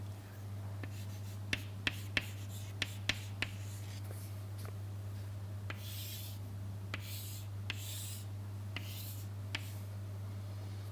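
Writing on a board while a diagram is drawn produces a string of quick tapping and scratching strokes, some bunched and some spaced out, over a steady low electrical hum, fairly quiet and close.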